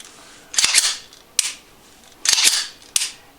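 A Ruger American pistol is dry test fired: sharp metallic snaps of the trigger and firing pin, each with a rattling slide clack, come in two close pairs, near and crisp.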